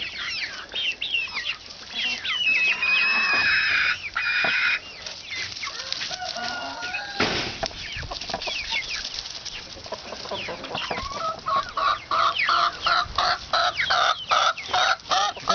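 Ten-week-old Red Star pullets, a sex-linked chicken breed, cluck and chatter close by in a rapid, irregular series of calls, with a louder burst of squawking midway and a dense run of clucks near the end.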